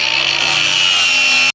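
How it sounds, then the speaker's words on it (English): An angle grinder cleans up a flux-core weld, making a loud, steady, high-pitched grinding whine that runs without a break for about a second and a half before cutting off abruptly. "Let me clean this up with a grinder a little bit more."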